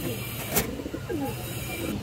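A large female pigeon at a pigeon sale gives a soft, low coo, close by, with bird calls and a faint voice in the background.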